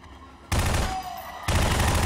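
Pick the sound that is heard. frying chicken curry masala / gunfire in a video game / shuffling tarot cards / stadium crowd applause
gunfire in a video game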